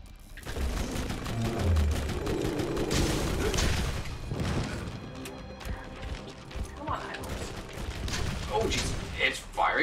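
A fiery rocket launcher fires in the video game Borderlands amid a busy, loud mix of gunfire bursts, impacts and crashes, with people talking over the action.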